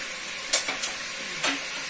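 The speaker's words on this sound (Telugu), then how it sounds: "కలబెడదాము ఆయిల్ అంతా మొత్తము బొట్టి కట్టుకునేట్టుగా" Ram gizzard curry stirred in hot oil gives a few soft scraping strokes over a low, steady sizzle, brief and fairly quiet.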